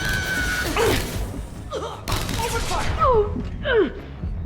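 Gunfire in the video game Mass Effect 2 amid a chaotic firefight, bursts of shots and thuds mixed with shouted voices and sweeping effects.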